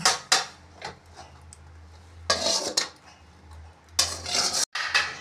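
A spoon stirs prawn curry in a pot, giving repeated clattering scrapes and clanks against the metal over a low bubbling hum, close and without talk.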